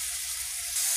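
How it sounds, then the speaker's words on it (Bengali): Onion, garlic and chilies sizzling in hot oil, a dense, steady hiss that fills the whole moment and grows slightly louder at the end, close and alone. "এবারে দিয়ে দিব পেঁয়াজ রসুন লঙ্কা, নুন দিয়ে দেব,"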